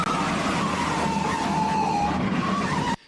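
Tires skid and squeal loudly and continuously during a car chase from The French Connection, with engine roar underneath before it cuts off abruptly.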